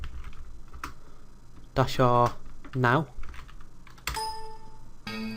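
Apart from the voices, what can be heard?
typing a shutdown command on a computer keyboard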